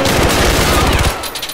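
Loud, close bursts of rapid gunshots in a first-person shooter video game, a dense volley that fades in the last half second.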